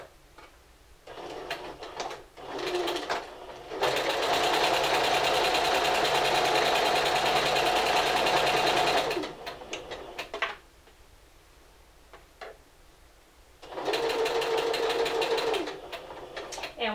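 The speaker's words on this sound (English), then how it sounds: "we're going to sew all the way down to this tailor's tack" A sewing machine runs while a single-needle seam is stitched on a Simplicity 1562 garment, two long steady whirring bursts of stitching separated by clicks and handling sounds from the fabric and presser foot.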